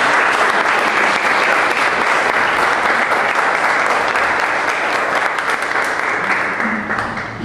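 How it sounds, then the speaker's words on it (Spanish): Loud, sustained applause from a large audience at a gathering with poets and writers, dense clapping that holds steady for several seconds before easing slightly at the end. "les pido las recibamos con un fuerte aplauso"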